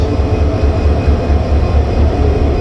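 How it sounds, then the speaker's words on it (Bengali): A Hyundai diesel locomotive hauling the Dhaka–Lalmonirhat Express rumbles steadily and loudly nearby, a continuous heavy low engine drone with rail noise and no talking. "এটা হুন্দাই কোম্পানির একটা লোকোমোটিভ"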